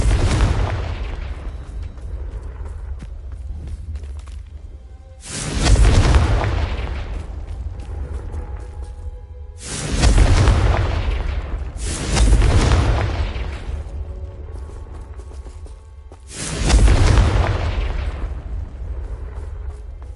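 Confringo fire spell blasts in the Hogwarts Legacy video game: five heavy, booming explosions a few seconds apart, each with a sharp onset and a long rumbling decay, with no talk.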